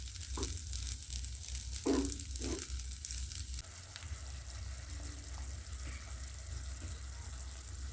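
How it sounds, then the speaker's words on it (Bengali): Spicy pasta coated in soy and chilli sauce sizzles in a pan while being stirred, a steady frying hiss with a few louder scrapes early on, then a softer continuous sizzle; no talking. "ফাইনালি আমি পাস্তাগুলোকে ভালো করে নাড়াচাড়া করছি।"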